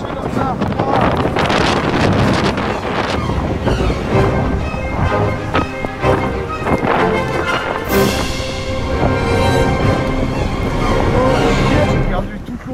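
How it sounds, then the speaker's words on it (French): Strong headwind roars steadily into the microphone while walking outdoors, buffeting and rumbling throughout, with people talking faintly underneath. "avec le vent de face"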